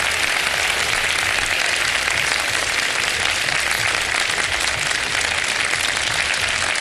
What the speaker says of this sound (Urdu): بہت سی تالیاں ہونی چاہیے